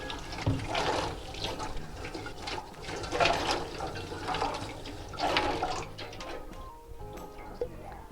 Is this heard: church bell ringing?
no